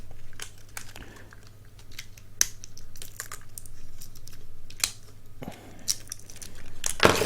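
Small plastic packaging being pried open with a key ring pin, giving scattered crinkles, snaps and crackles at close range with a louder burst of crunching near the end, plus faint clicks between.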